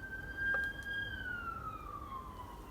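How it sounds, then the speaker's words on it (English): A police siren wails outside at a distance, its tone sliding slowly downward over a low background rumble. "And there goes the police sirens."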